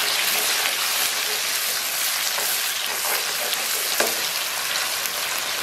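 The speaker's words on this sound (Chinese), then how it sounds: "咱们把葱香蒜末给它在里边 简单给它煸炒一下" Scallions and minced garlic stir-fried in hot oil for braised pork belly, giving a steady, loud, close sizzle with light scraping from stirring throughout.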